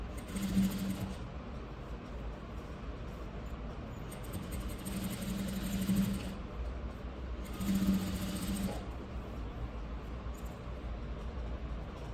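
A sewing machine stitching a designer blouse runs in three bursts of steady mechanical whirring, each a second or two long, with quieter pauses between them.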